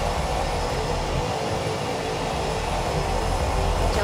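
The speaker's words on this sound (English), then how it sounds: "They say it's way more fun flying a smaller plane than a bigger plane." Small plane engine in flight, a steady loud drone with a constant hum that fills the whole clip without breaks or voices.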